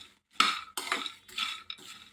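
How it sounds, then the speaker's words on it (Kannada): Peanuts dry-roasting in a pan over a low flame, giving four separate bursts of rattling, scraping stir noise with short quiet gaps between them. "ಈಗಿದ ಲೋ ಫ್ಲೇಮಲ್ಲಿ ಹುರ್ಕೊಳ್ಳೋದು ನೋಡಿರಿ"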